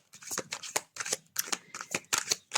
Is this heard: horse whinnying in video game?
no